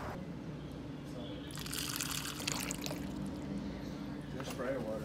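Water sprays in hissing bursts at a 5K obstacle race in Austin, swelling loudly in the middle and again near the end over a steady low background, with voices nearby.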